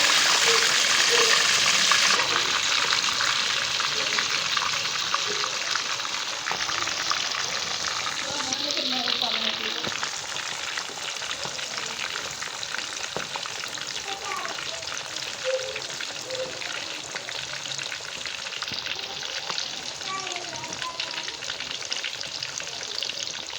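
A piece of chicken breast fries in hot oil with a loud, continuous sizzle and crackle throughout, with occasional stirring, while a person talks over it.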